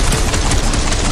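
A loud, sustained roaring blast from an exploding object in the video game Guardians of the Galaxy, a dense broadband rumble that stays intense for the whole moment without pause.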